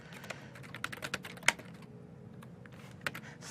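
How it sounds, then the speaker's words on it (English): Typing on a computer keyboard, close and crisp, with irregular bursts of key clicks and a few louder strikes, then a lighter, sparser patter of keys. "I'm being yelled at for typing too loud"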